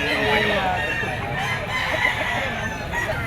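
Gamecock stag roosters crow at a busy pet market, their calls moderately loud within a dense wash of clucking and crowd noise.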